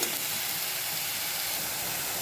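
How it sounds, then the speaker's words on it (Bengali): Onions fry in hot oil over a medium flame, giving a soft, continuous sizzle and hiss that holds steady throughout, close by and without speech. "তাই পেঁয়াজটাকে ভেজে নিচ্ছি প্রথমে একটু"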